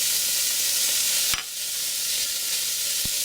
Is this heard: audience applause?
no